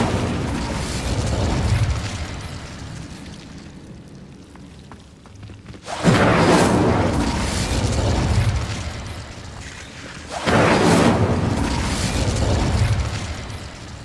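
Incendio fire spells blast in the Hogwarts Legacy video game, two loud roaring bursts of flame with crackling rush, each swelling suddenly and then fading, between quieter rumbling stretches.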